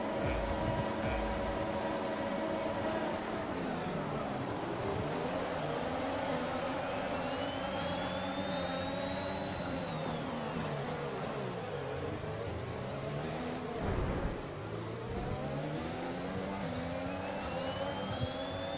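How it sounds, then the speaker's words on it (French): Race start at Jeddah in the F1 2021 video game: dense, loud roar of many engines revving and rising in pitch as cars accelerate together, a continuous wall of sound with brief shifts. "Départ du Grand Prix de Jeddah."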